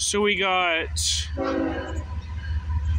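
An eastbound CSX intermodal freight train sounds its horn in two loud blasts close by, then rumbles steadily past, while someone talks briefly over the noise.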